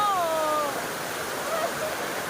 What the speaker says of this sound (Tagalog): running water, the parang pool